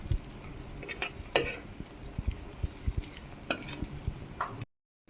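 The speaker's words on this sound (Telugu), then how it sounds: "ఇప్పుడు ఉల్లిపాయలు బాగా వేగినాయి కదండి." Onions sizzle in oil in a pan for an egg and onion curry, with scattered sharp scrapes and clinks of a spoon stirring against the pan over a steady frying hiss, and no talk.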